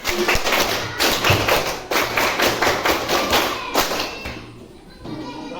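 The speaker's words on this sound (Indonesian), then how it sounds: "Tepuk pramuka." A group of schoolchildren claps the Pramuka scout rhythm together, a loud, dense run of patterned claps in quick bursts with short pauses between phrases, close and filling the room.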